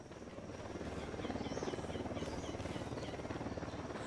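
A unit helicopter in the video game Ghost Recon Wildlands, its rotor beating in a steady rapid thump that swells louder over a few seconds, heard alone without talk.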